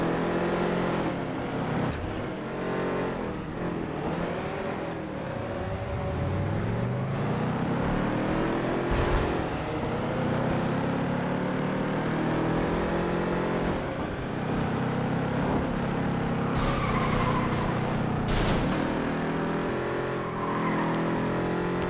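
Race car engine in the PS2 racing game FlatOut 2, during an Urban Racing Cup race, revving and shifting continuously with rising and falling pitch, with occasional tyre squeals and impacts, loud and steady throughout.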